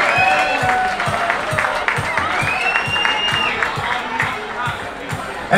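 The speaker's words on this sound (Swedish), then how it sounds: "Stor applåd för Elinor!" Audience at a Miss Universe Sweden beauty pageant final applauding and cheering for a winner, sustained loud clapping with crowd shouts and a rhythmic music beat underneath, with a presenter's voice over it.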